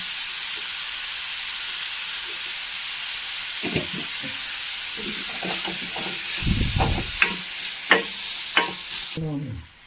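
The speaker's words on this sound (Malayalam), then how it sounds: "നമ്മുടെ സബോളയൊക്കെ നന്നായി വാടി വന്നിട്ടുണ്ട്" Onions sauté in a pan with salt, giving a continuous loud sizzle and hiss, joined midway by scraping stirs and several sharp clinks of a spoon against the pan.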